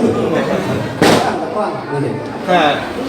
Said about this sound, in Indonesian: Ini bagus juga petasan.